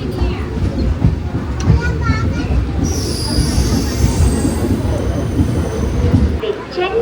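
The Cholan Express pulls into Chengalpattu Junction with loud, close metallic wheel squeal over a heavy rolling rumble, the shrill screech rising midway and persisting as the train slows.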